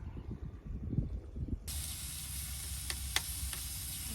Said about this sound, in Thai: ก็กำลังย่างหมู ย่างหมูกระทะไฟฟ้าครับ